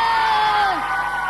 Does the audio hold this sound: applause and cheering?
yes